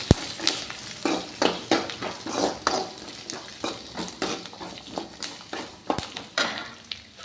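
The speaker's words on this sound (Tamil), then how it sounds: "பூண்டு போட்டுக்கலாம். அதோடு சேர்த்து இஞ்சியும் போட்டுக்கலாம். இது நல்லா எண்ணெயில் வணக்கி விட்டுக்கலாம்ப்பா." Garlic and ginger sautéing in hot oil for a ridge gourd chutney, a steady sizzle broken by a regular rhythm of spoon scrapes and stirring clinks against the pan, close and clear with no talking.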